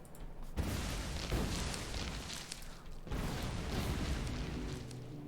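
Grenade explosions clearing trees in Factorio, two heavy booming blasts a few seconds apart rolling into a continuous rumble of mechanical base noise.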